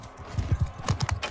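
Horse hooves clip-clopping in the Mount & Blade II Game of Thrones mod, a steady run of heavy thuds at a moderate pace, fairly loud and close, with no talk over them.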